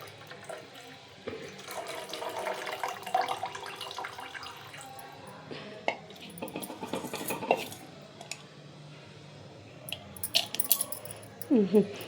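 Mung bean sprouts being rinsed by hand in a bowl of water at home, with continuous splashing, swishing and soft squishing, occasional clinks of a vessel, and brief brighter sloshes near the end; no talking.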